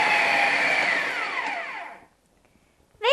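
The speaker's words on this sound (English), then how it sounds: "Let's put our lid on now so that we can blend our butter and sugar nicely." A kitchen blender whirs loudly as it creams butter and sugar, its pitch drooping slightly before cutting off after about two seconds, followed by a short quiet gap and a brief voice.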